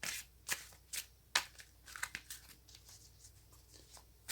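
Tarot cards being shuffled by hand in a quiet room, a loose run of soft riffling bursts and crisp flicks, some sharp and some faint, with no talking.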